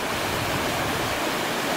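A river flowing under an old train bridge on the Foothills Trail, with snow on the rocks, a steady, dense rushing of water that stays even throughout.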